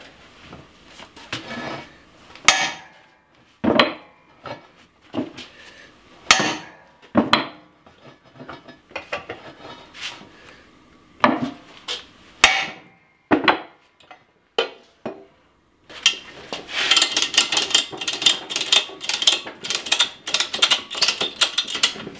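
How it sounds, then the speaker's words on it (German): Sharp, irregular knocks and clanks of hammering on a metal part of a Toro eFlex reel mower during disassembly, followed by a denser stretch of rapid rattling strikes. "jetzt muss ich BAM! Hammer raufhauen"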